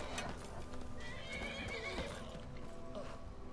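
A horse in the video game Skyrim whinnies over clip-clopping hooves, the neigh standing out against a continuous game backdrop at moderate loudness.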